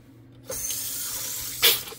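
Water gushes from a faucet while a water heater tank is flushed, starting abruptly after a quiet moment and running steadily, with a brief louder spurt near the end.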